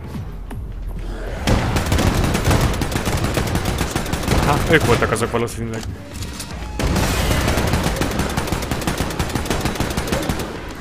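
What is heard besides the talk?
gunfire in Wolfenstein II video game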